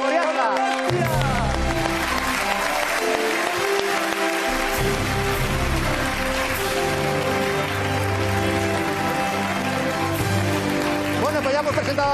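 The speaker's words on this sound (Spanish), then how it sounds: "un aplauso para Bimbi, el torito de Soriana" A live audience applauds for a finalist called Bimbi, el torito de Soriana, at the El Conquistador 2021 final, a dense steady roar of clapping running the full length under loud music and a voice.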